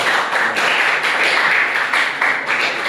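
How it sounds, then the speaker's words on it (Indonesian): A room of students claps for a guest speaker at a university agrarian sociology class, steady dense applause filling the whole moment, loud and close. "Aplaus buat narasumber 2."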